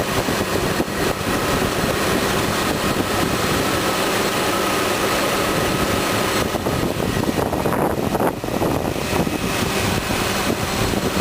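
A 4.0 liter engine in a 2004 Jeep Grand Cherokee Columbia Edition idles with a steady, loud, continuous drone that runs throughout with no speech.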